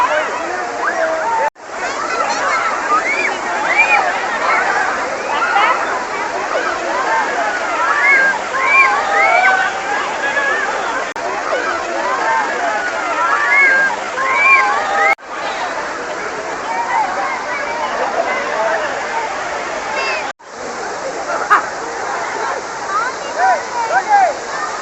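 Perumban Kuthu waterfall, swollen after rain, roars loudly and steadily with close splashing water, a busy crowd babbling under the rushing flow throughout.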